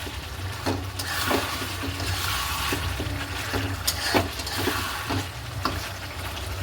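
Chicken sautéing in a kadai: a continuous oily sizzle broken by repeated scraping and clinking of a spoon against the pan, close and fairly loud.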